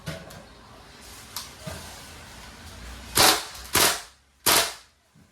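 Crosman A4-P CO2 airgun firing steel balls on full auto: a few faint clicks, then three loud, sharp rapid bursts close to the microphone, each with a brief hiss.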